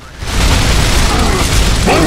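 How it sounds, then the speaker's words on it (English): A pistol shot in Gears of War: one loud, close, booming blast fills the brief moment, with a heavy low-end burst and a short tail. "I'm gonna kill him with a pistol."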